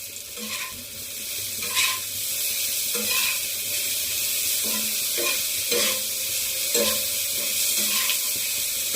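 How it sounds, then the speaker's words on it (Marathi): Onion and tomato sizzling in a pan with salt, a continuous frying hiss broken by repeated scraping strokes of a stirring spoon. "कांदा टोमॅटो व्यवस्थित शिजवून घेऊ मीठ टाकून घेऊ आपण चवीनुसार"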